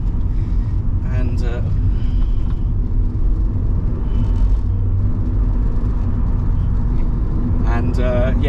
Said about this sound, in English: I was taking him for a little spin around the block just to get some warmth into him